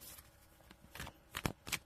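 A deck of playing cards is shuffled by hand for a tarot reading, with soft riffling and several crisp flutters building to louder snaps near the end, close and with no talking.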